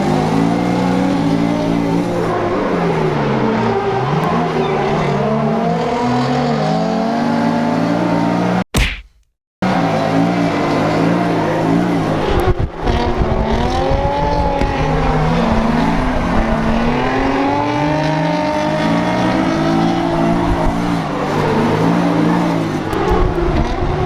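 A Nissan 350Z sports car engine roars and revs hard at speed while drifting, rising and falling through gears, loud and continuous with a brief cut midway.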